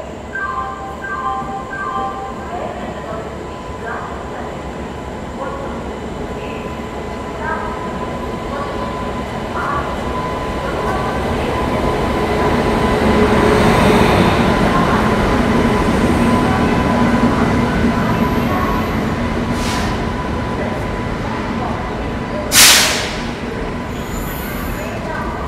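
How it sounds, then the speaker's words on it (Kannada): The Haripriya Express, train 17416 from Kolhapur to Tirupati, pulling into platform 1 at Gadag station: a long rolling rumble of wheels and coaches that swells and then eases, with a sharp clank near the end. "train number 17416 ಕೋಲ್ಹಾಪುರ್ Tirupati Haripriya express ಸದ್ಯಕ್ಕೆ ಬಂದಿದೆ ಗದಗಿನ ಪ್ಲ್ಯಾಟ್ಫಾರ್ಮ್ ನಂಬರ್ 1ಗೆ"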